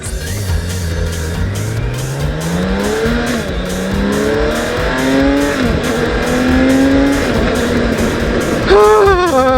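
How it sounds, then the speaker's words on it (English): A 2015 BMW K1600 GTL motorcycle engine runs loud and close, its pitch climbing and dropping repeatedly through several rev sweeps, ending with a sharp rise at the end. "Absolutely smooth as hell, this engine."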